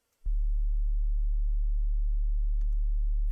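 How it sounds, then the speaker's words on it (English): A clean sine-wave sub bass synth tone, with nothing else switched on, holds steadily and loud from a sharp onset after a brief silence, with a small click near the end. "That is just going to give you a nice clean undertone sub bass."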